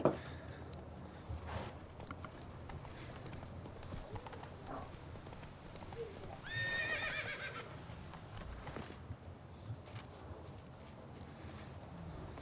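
Roach, Geralt's horse in The Witcher, clip-clops along with soft, fairly quiet hoofbeats, then lets out one clear whinny midway, with faint background ambience.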